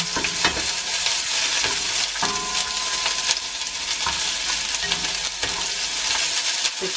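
Rump steak fries in a hot pan with a continuous loud sizzle, broken by occasional scraping stirs, and no one talks.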